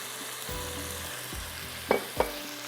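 Honey beef noodle sauce being mixed in a pan with salt, black pepper, Worcestershire sauce and vinegar, giving a steady low sizzle with a few sharp utensil clinks near the end.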